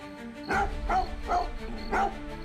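A dog barks four times in a steady rhythm, close and fairly loud, with short yappy bow-wow calls and no voices over it.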